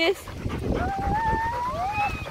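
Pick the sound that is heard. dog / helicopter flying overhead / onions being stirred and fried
dog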